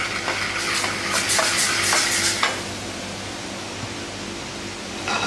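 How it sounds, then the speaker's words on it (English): Lamb searing in a hot pan gives a steady broadband sizzle, with scraping or stirring clatter in the first half that then settles into a softer, continuous hiss. "we're going to start cooking the lamb"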